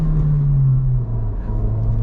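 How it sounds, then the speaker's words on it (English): A 2025 Honda Civic Si with a manual gearbox, driven in normal mode, hangs its revs: a steady engine drone heard from inside the cabin that holds, then sags slowly in pitch over about two seconds. "I guess you guys can kind of hear the rev hang that this has"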